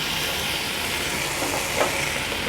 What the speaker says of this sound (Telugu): నిమ్మకాయ తీసుకొని నిమ్మకాయ రసాన్ని వేడి మీదనే పిండేద్దాం